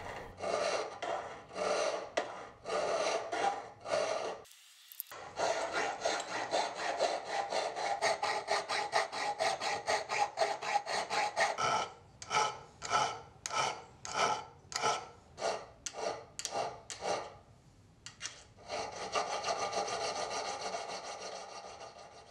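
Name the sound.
hand filing steel knife blanks to clean up profile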